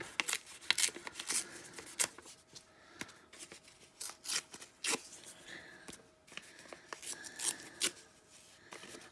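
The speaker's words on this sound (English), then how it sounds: "maybe a bit of the old book paper. Let's tear that up." Old book paper being torn into pieces by hand for a fabric journal craft project, a run of sharp, irregular ripping and crinkling bursts close by, with short pauses between tears and no talking.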